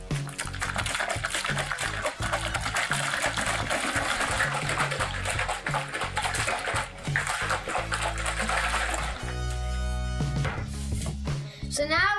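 A lidded EasiYo yogurt maker tub of mix is shaken, giving a loud, continuous sloshing and rattling that stops just before the end.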